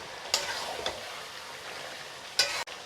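Broiler chicken meat sizzles in a pan while being stirred, with a soft continuous frying hiss broken by a few sharp scraping strokes of the spoon, close and moderately quiet.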